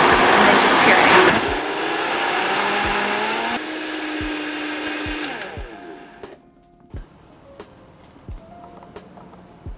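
A Vitamix blender purees potato soup, its loud motor roaring for several seconds with a slight drop in pitch, then cutting off, followed by a few scattered clunks and taps of the lid and tamper.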